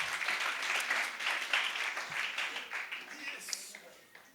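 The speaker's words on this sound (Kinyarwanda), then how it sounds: "Reka dukomere Imana amashyi cyane." Congregation applause at an evening church service in Rwanda, broad steady clapping from many hands filling the room, held at an even level for several seconds.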